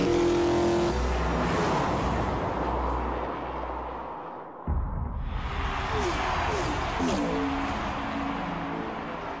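A Ford F-150 pickup with an EcoBoost V6 engine drives at Homestead Miami Speedway, a sustained roar that dips, then returns as it passes and pulls away, with a voice speaking over it.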